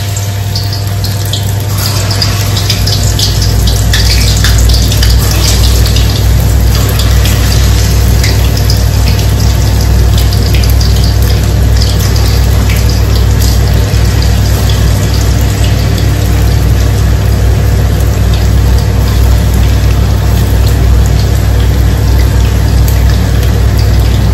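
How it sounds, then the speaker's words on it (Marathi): Banana wafer slices fry in hot oil in a loud, unbroken sizzling hiss over a steady low hum from a running kitchen chimney exhaust, with no talking. "तर आता मी इथे टाकते केळीचे वेफर्स."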